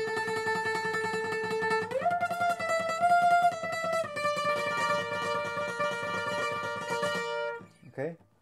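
Requinto guitar picks out a riff alone, a bright run of sustained plucked notes that rises in pitch partway through and rings close and clear before a final quick figure.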